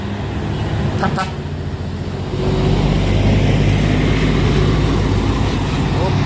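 A tanker trailer truck labours up the Bukit Kodok hill road amid traffic, a heavy engine roar that grows louder partway through, with brief horn toots early on.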